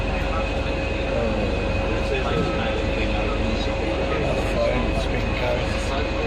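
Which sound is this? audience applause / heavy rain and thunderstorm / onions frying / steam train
steam train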